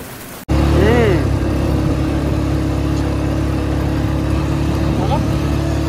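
Speedboat engine off Nagaon beach, spraying water behind it. It starts abruptly after a brief silence, then holds a loud, steady mid-pitched motor drone with a slight rise, continuous and close throughout.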